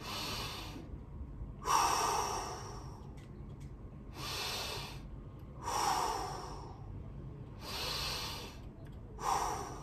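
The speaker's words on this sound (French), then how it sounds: "J'inspire." Slow, deep breaths drawn in during a guided breathing and stretching exercise, each inhalation a clear, airy rush repeating about every two seconds, close and alone.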